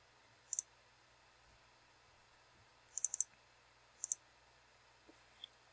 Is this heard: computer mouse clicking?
yes